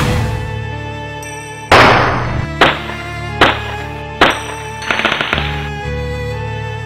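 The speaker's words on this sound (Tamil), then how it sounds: "இப்ப படப்படன்னு வெடிச்சது பாரு, அதான் பட்டாசு" Firecrackers burst in a series of five or six loud, sharp bangs at irregular intervals, the later ones crackling in quick rapid pops, each followed by a brief ringing decay.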